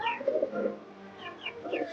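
Domestic pigeons in a home loft coo in soft, low, rolling phrases, several calls overlapping close by across the short stretch with no talk.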